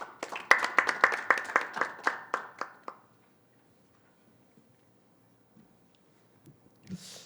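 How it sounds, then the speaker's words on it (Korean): An indoor audience at a science and technology policy forum claps to welcome a speaker, a burst of applause lasting about three seconds that fades into near silence, with a faint voice at the end. "박사님을 큰 박수로 환영해 주시면 감사하겠습니다."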